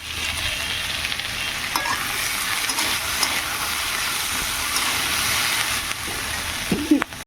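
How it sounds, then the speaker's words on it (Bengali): Shrimp with potato, onion and pointed gourd frying in a pan, a continuous bright sizzle and hiss that holds steady, close and fairly loud, with a couple of faint clinks near the end. "আর এই যে আলু পেঁয়াজ আর পটল এই যে এখানে ভাজা হচ্ছে"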